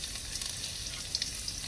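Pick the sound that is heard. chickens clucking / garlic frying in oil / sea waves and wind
garlic frying in oil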